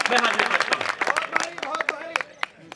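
An audience at an All India Mushaira poetry recital claps in short, uneven bursts of sharp hand claps. A voice speaks over the clapping throughout.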